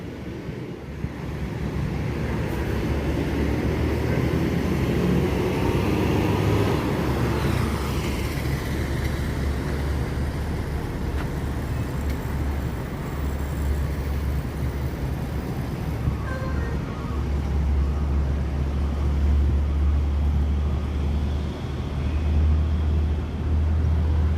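An NPM executive coach bus with SR2 bodywork rolls into the Palembang bus terminal, a steady low engine rumble and road noise heard up close for the whole stretch, with wind buffeting mixed in.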